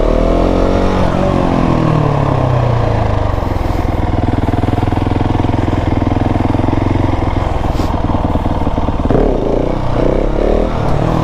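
A motorcycle engine roars loud and close as the rider works clutch, brake and throttle to loft the front wheel into a wheelie, revs rising and dipping steadily throughout.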